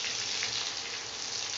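Onions sizzle steadily in hot oil in a pan for a Bengali prawn malai curry, a dense, even hiss heard close with no talk.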